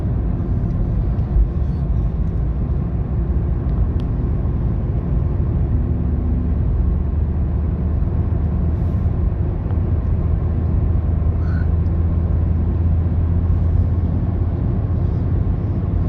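A manual-transmission car cruises in fourth gear during a driving lesson, its engine and road noise forming a steady, continuous low rumble from inside the cabin with no breaks.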